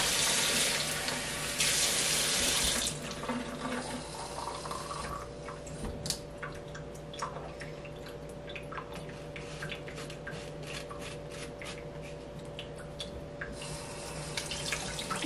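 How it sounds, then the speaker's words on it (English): Warm water running from a tap into a lamb's milk bottle, a steady stream with a louder gush at the start and end and quieter trickling in between. "then I'm gonna fill it with some warm water"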